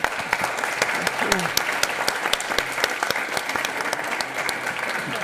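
Closing applause from the audience of a think-tank panel at the European Forum Vienna, a dense, steady wash of many hands with a voice speaking faintly under it throughout.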